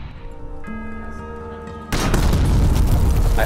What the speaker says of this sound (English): I added falling debris sounds to the explosions to help immerse the player in his environment.